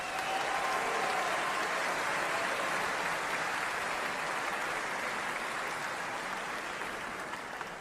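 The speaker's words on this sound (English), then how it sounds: "Please give them a round of applause" An audience at a bluegrass music awards ceremony applauds the year's award winners, a dense, even wash of clapping that holds steady and slowly tapers.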